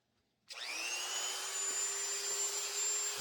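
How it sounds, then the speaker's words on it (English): A Dremel rotary tool fitted with a mill bit, milling a holster, whirs up abruptly after a brief silence and holds a steady high-pitched whine to the end, close by with no talking. "Take a Dremel with this mill bit"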